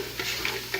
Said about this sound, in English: Give her a little stir